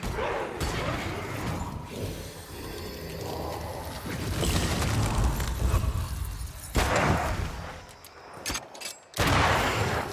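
Gunfire in the video game Banishers: Ghosts of New Eden: bursts of shots within dense, loud combat noise, with sharper blasts near the end and brief quiet gaps between them.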